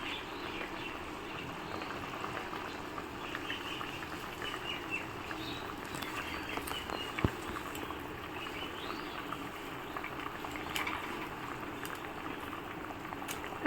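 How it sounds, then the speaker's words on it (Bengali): Curry gravy for mochar dalna comes to a boil in a pan, a faint, continuous bubbling and popping with occasional sharper pops over about fourteen seconds. "দেখো ঝোলটা উতাল চলে এসেছে।"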